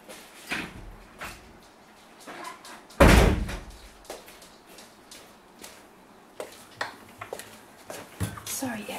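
A loud door bang rings out once, close and sudden, opened to let a dog in, with faint shuffling and small knocks before and after it.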